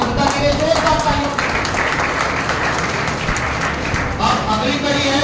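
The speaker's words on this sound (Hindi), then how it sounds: "जोरदार तालियां" Audience applause at a pharmacy college award ceremony, a dense, steady wash of clapping from a large crowd that carries on throughout.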